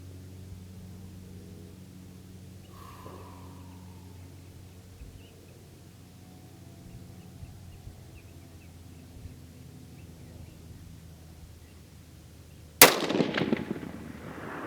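A Savage rifle fires one sharp, loud shot at a target near the end, breaking a long stretch of quiet outdoor background with a sudden crack and a decaying echo.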